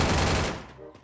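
Rapid automatic gunfire from a close-range weapon in the Free Fire battle royale game, a dense loud burst that fades out after about half a second.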